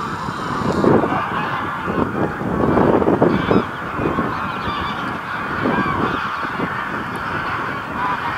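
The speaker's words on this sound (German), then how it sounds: "Und jetzt ist auch die Akustik wieder passend mit den Gänsen" A flock of geese honks continuously at Alfsee lake, many overlapping calls close by, with a steady outdoor background and some wind.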